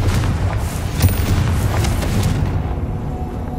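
A Confringo fire spell explodes in Hogwarts Legacy, blasting spider sacks. A deep, rolling boom rumbles continuously, with a sharper burst about a third of the way in, then fades toward the end.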